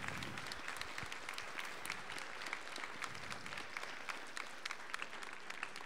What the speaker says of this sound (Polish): Myślę, że należą mi się brawa.